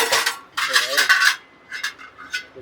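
Iron dosa and chapati pans handled at a market stall, giving a few loud, close metallic clanks and scrapes in quick bursts with short pauses between them.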